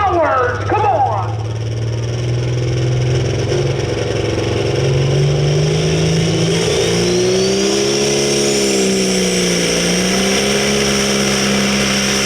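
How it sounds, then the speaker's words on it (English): A pro stock semi truck with a Cyclone diesel performance engine bellows under load during a sled pull out of Almont, Michigan; its loud, sustained roar climbs in pitch and holds, with a short burst of other noise at the start. "Cyclone diesel performance engine."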